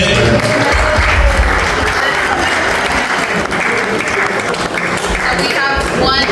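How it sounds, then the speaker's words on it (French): At a pastor couple's 30th wedding anniversary celebration, an audience applauds loudly and steadily, with cheering voices mixed into the dense clapping throughout. "Est-ce qu'on peut acclamer pour la vie qui est belle?"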